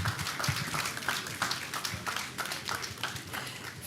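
Audience applause at an NNPC CNG station commissioning ceremony, a steady wash of many hands clapping for about four seconds with slight swells and no speech over it.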